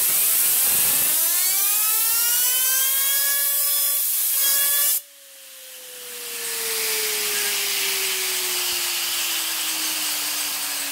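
A VCR head spun up as a gyroscope gives a close, loud whirring whine whose harmonics slowly fall in pitch as it spins down. Midway a sudden shift brings broad hiss, with one steady tone still dropping underneath.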